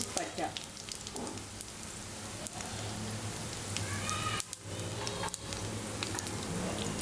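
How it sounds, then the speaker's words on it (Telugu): Whole spices frying in hot oil with dry coconut, coriander seeds, cumin, cardamom and cloves for an egg paneer curry, a steady close sizzle and crackle with occasional stirring scrapes. "వీటిని విధంగా కాసేపు ఫ్రై చేసినాక"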